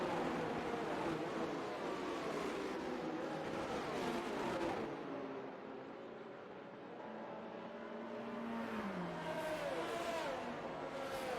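Race cars circling a track in a racing video game, several engines droning and whining together in a steady, continuous roar, with pitch sweeps as cars shift and pass close by and no talking.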